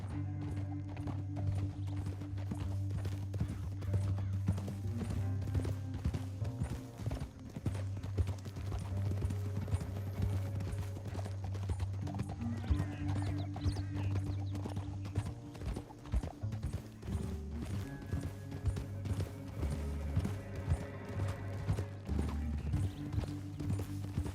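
Horses galloping in Red Dead Redemption 2, a steady rapid clip-clop of hooves with occasional neighing, heard under a sustained low musical drone and ambient game sound across the whole stretch.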